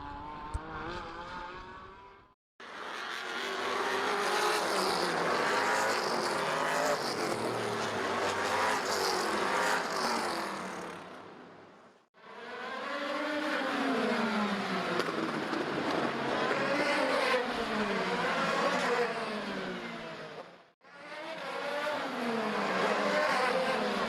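Trans Am series race cars roar past on a street circuit in three long, loud bursts of engine noise with rising and falling pitch, separated by brief lulls.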